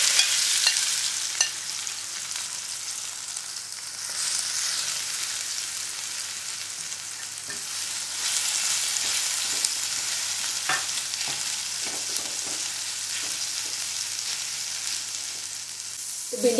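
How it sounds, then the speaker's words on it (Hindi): Okra fries in hot vegetable oil in a frying pan, giving a continuous bright sizzle with occasional stirring clicks and scrapes, close and unbroken, with no one talking. "अब हम इसमें भिंडी डाल के इसे अच्छी तरह से फ्राई कर लेंगे"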